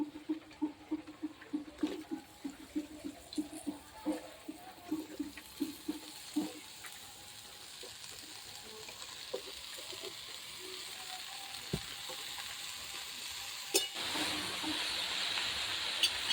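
Washed pumpkin greens go into a hot pan of cooked-down spices for a fish-head dish, with a run of soft rhythmic taps first, then a faint hiss that swells into a louder sizzle near the end.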